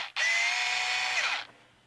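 A HART 4V battery screwdriver, model HFSD01, whirs steadily for just over a second at close range, a smooth high motor whine that winds down at the end, with no talk.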